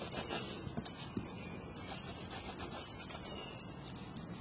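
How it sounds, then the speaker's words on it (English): Soft paintbrush rubbing paint into a cracked, textured mixed-media surface, a quiet close scrubbing and swishing texture with small irregular strokes throughout, no voices. "Nice soft brush is good for this. You want to work it in all these little cracks and crannies."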